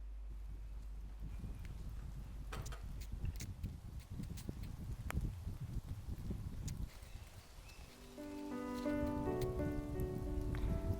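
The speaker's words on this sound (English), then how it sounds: "It's drizzling." Light rain drizzles during an outdoor walk, with soft scattered patter and occasional sharper drops, faint and close; a steady tonal hum rises near the end.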